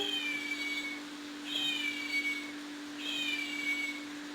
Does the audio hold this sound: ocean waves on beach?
no